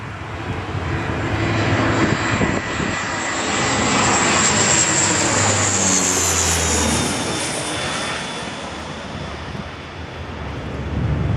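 Propeller aircraft flying over a cemetery, its engine drone loud and steady as it passes overhead, swelling and easing over about eleven seconds with some wind on the microphone.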